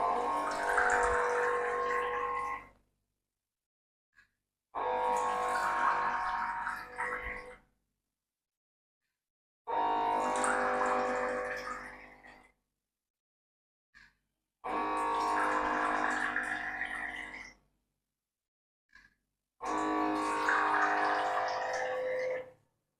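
A tank-shaped alcohol dispenser for seven shot glasses pours 25 ml measures in five separate bursts of liquid trickling and pump hum, each lasting about three seconds and followed by a brief silence and a faint click.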